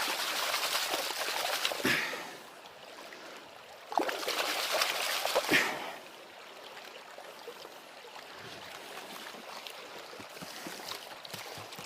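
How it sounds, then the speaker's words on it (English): Water sloshes and splashes in bursts as gravel is swirled in a gold pan in a large river, two strong surges followed by quieter trickling and swishing, close and alone without talk. "This is speed panning at its finest."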